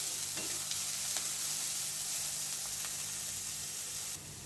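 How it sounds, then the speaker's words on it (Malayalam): Coriander and curry leaves are stirred into a frying snack mixture, giving a steady close sizzle with soft scraping strokes throughout and no talk. "നമുക്കിനി ഇതിലേക്ക് 1 ടേബിൾ സ്പൂൺ മല്ലിയിലയും 1 ടേബിൾ സ്പൂൺ കറിവേപ്പിലയും ചേർത്ത് കൊടുക്കാം. നന്നായിട്ട് മിക്സ് ചെയ്യാം."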